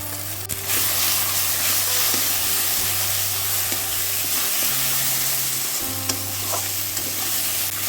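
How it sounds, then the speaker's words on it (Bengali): Moringa leaf paste frying in hot oil in a kadai, a dense, steady sizzle and hiss close up for several seconds, with faint spatula scrapes and a constant low hum. "এবার সজনে পাতার পেস্টটা দিয়ে দিচ্ছি।"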